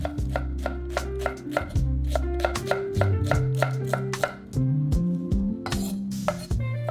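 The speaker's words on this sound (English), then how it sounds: "Then, slice it thinly." Rapid, regular knife chops on a cutting board as a leek is sliced, crisp clicks repeating steadily with a few louder knocks near the end.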